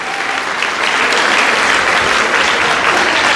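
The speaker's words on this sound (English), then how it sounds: "Give yourselves a round of applause." Keynote audience breaks into dense, sustained applause that swells and holds loud throughout, a large crowd clapping together with no break.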